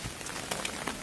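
Rain falling steadily around the Rajban Vihara Buddhist temple grounds in Rangamati at dusk, a continuous hiss with a few brief sharper drop patters, moderately faint and heard alone.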